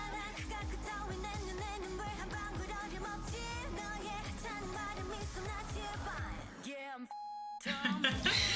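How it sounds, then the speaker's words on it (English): During a K-pop song, a censor beep cuts in as a short steady electronic tone over a sudden dropout. Dense music plays loudly before it and resumes afterward. "The beep cracks me up."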